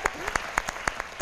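A short burst of applause on a talent-show stage, with sharp, evenly spaced claps heard close and clear.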